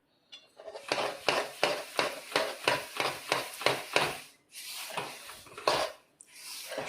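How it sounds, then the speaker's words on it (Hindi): Roasted sesame seeds are stirred into jaggery for til laddu with a rapid, regular series of scraping, knocking strokes against the pan, a short pause, then a few more strokes. "इस तरह से डालिए बढ़िया से तिल्ली को और मिक्स करिए"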